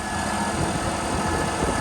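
A New Holland 5620 CRDI 55 HP tractor runs steadily with a rotavator in eco mode and first low gear, giving a constant loud, dense mechanical drone throughout with no talk.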